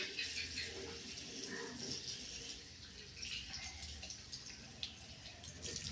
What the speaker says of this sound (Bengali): একা একাই হাত মুখ ধুয়ে নিচ্ছে